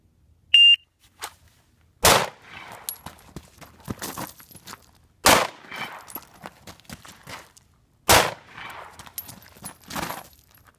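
Pistol shots fired at a bullseye target during a 10-20-30 drill, opening with a short electronic shot-timer beep followed by three loud, sharp gunshots spaced a few seconds apart, each with a brief ringing tail.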